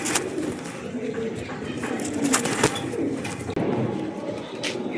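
Pigeons of a good breed kept at a home loft coo in low, rumbling calls with wing flutters and rustling close by, while someone talks over them.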